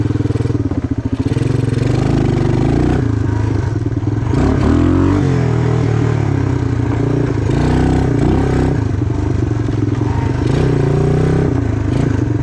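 A 1986 Suzuki Quadrunner LT250EF ATV engine drones loudly and steadily in crawl gear while climbing a hill, with rising revs and clattering, scraping noises over rough ground.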